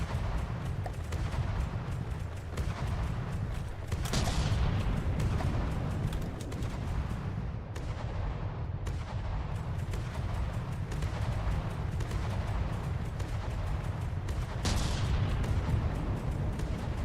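Ship guns firing in From the Depths: a continuous low rumble of repeated cannon blasts and booms, with sharper reports standing out every few seconds at moderate loudness.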